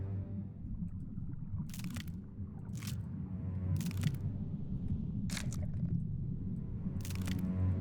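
Several sharp crunches from a fish chomping food in the Feed & Grow: Fish video game, irregularly spaced over a steady low rumble of game ambience.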